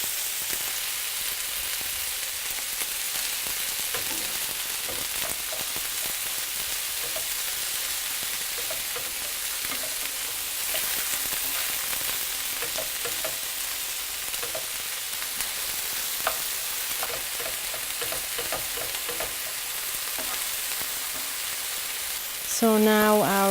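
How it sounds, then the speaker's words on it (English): Ground lamb or beef browns in a pan for Iranian rice dishes, giving a steady, loud broadband sizzle throughout with occasional scrapes and stirring clicks, ending with a brief clatter. "So we're just gonna brown the meat"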